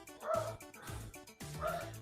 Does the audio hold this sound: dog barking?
yes